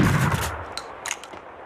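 Gunfire in the video game Max Payne 2: a loud, close burst of shots opens, then fades into a few scattered, echoing cracks and ringing tails.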